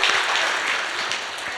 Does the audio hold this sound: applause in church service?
yes